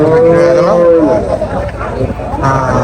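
A loud, close cow moo rises and holds for about a second at a village cattle market, followed by a busy mix of crowd chatter and animal noise.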